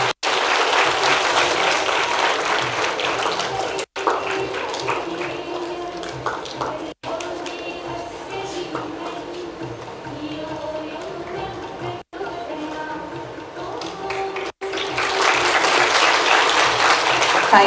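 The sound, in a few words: audience applause for guests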